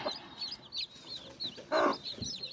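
Chickens clucking on a poultry farm, with repeated short clucks and calls throughout and one louder burst near the end, close and moderately loud.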